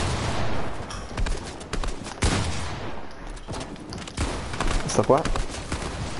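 Bursts of rapid gunfire in the video game Fortnite crackle in repeated volleys beneath a player's talk, with sharp louder shots standing out among the busy game sounds.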